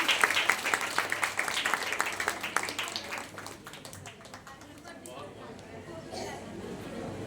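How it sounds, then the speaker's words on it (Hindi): An audience at an ashram anniversary celebration in Kurukshetra claps loudly for the children, dense applause that gradually thins and fades out, with murmuring voices underneath. "एक बार जोरदार ताली हो जाए हमारे प्यारे बच्चों के लिए।"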